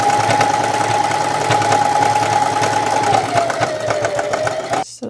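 A sewing machine stitching patchwork pieces of a wizard hoodie hood together runs in one steady, loud, close whir for about five seconds and stops abruptly at the end.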